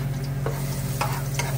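Garlic frying in olive oil in a pan while being stirred, a steady close sizzle with occasional scraping strokes over a constant low hum.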